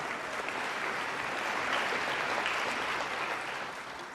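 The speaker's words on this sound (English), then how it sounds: "let's give our students another big round of applause for their beautiful singing" An audience at a National Flag Day event at Parliament House applauds students' singing with a broad, steady wash of clapping that swells slightly and then tapers off.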